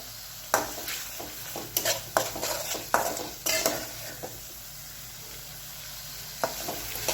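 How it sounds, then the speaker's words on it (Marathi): Sliced potatoes stirred into frying masala for a spicy potato curry, with close sizzling and repeated spatula scrapes against the pan at an uneven rhythm, loud at first and then settling into a steady fry, with no talking. "आता बटाटा टाकल्यानंतर पण छान असं परतून घ्यायचंय"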